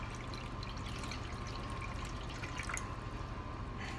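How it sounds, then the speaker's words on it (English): Water poured into a pan for caramel flan, a steady faint trickle and splash running continuously at close range with no talk. "You put the water in here, you pour the water, like maybe 1 or 2 cups of water"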